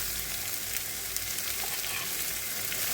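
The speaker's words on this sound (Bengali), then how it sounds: "পেঁয়াজটা কিন্তু সুন্দরভাবে হালকাভাবে, মানে বেশি পুড়িয়ে ফেলবো না, ভাজা হয়ে গেছে।" Onion fries lightly in a pan, giving a steady, close sizzle throughout with no talking.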